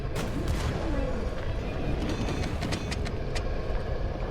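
Gunfire in the video game Sea of Rifts, a dense run of sharp shots over a loud, constant roar of game noise, with no voices.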